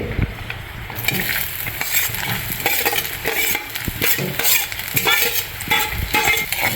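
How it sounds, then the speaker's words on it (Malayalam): Coconut pieces fry in ghee for a neyyappam recipe, making a steady nearby sizzle with frequent scraping and clinking as they are stirred in the pan. "അപ്പൊ നമുക്കിത് നെയ്യിൽ നന്നായിട്ടൊന്ന് വറുത്തെടുക്കാം"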